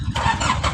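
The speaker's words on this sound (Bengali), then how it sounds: "অলরেডি কিন্তু গাড়ি স্টার্ট হয়ে গেছে।" A 2016-model pickup truck with a 12-foot body cranking and catching, a short burst of starter whirring into the engine firing, loud and close.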